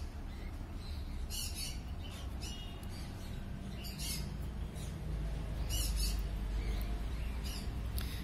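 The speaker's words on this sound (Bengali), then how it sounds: "এবারে রোজি অফলাইন দেখতে পাচ্ছেন, সঙ্গে ফিশার লাভবার্ডও আছে।" Rosy-faced and Fischer's lovebirds squawk in repeated bright bursts at a crowded bird market, the calls rising over a steady din of background bustle.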